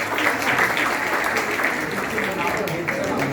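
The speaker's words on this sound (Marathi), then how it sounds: "सर्वांनी टाळ्या वाजवायच्या" An audience claps at a school's annual prize distribution ceremony, a steady wash of applause with voices mixed in, lasting throughout.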